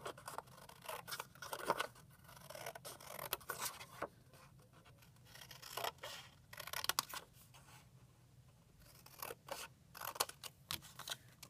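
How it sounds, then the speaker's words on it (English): Scissors make repeated crisp snips while cutting artist trading cards out of paper, close and quiet. Uneven bursts of cuts are broken by short pauses and light paper rustling. "finish cutting out my artist trading cards"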